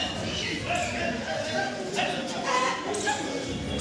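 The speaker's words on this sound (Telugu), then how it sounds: "చూడండి, కుక్కలు అయితే డేంజర్గా ఉన్నాయి." Several dogs barking on a street, repeated sharp barks and yelps at close to mid distance over a steady noisy background, with someone talking throughout.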